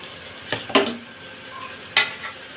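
A metal pan is set down on a stove with a couple of sharp clanks, followed by a softer knock of cookware against a quiet kitchen background.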